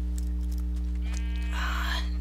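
A sheep in Minecraft gives a single short, wavering bleat over a steady low background hum.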